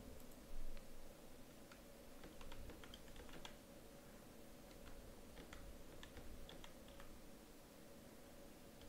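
Computer keyboard typing into a web browser, with light, irregular key clicks in short bursts over a steady background hiss, close by and with no talk.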